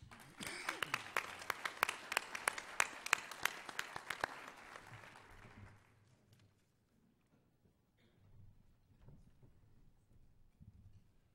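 Audience applause welcoming a speaker to the stage at an oil and gas conference panel, steady clapping for about five seconds that quickly fades into quiet room noise.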